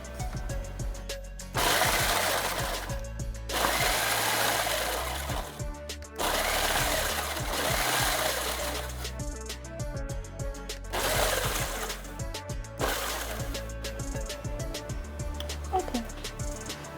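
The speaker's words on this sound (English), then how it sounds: "Now we're gonna grind the graham crackers into like a crumbly mix" Graham crackers ground into coarse crumbs in an electric grinder or blender, several loud whirring bursts a few seconds long separated by short pauses, close and continuous, with voices faintly under the motor.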